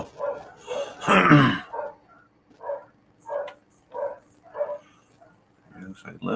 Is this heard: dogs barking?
yes